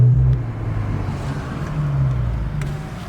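An Infiniti Q50 3.0t twin-turbo engine with a Megan Racing Y pipe and muffler delete idles with a loud, deep exhaust drone, with a brief swell in the rumble partway through as it is revved.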